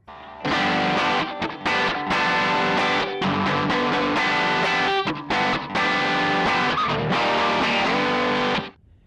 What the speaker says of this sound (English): Even the actual just regular guitar sounds on these are really cool.